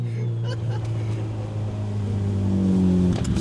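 A 400hp Mitsubishi Evo 8 MR engine revs and accelerates from inside the car, a steady loud drone climbing in pitch, with brief excited voices over it.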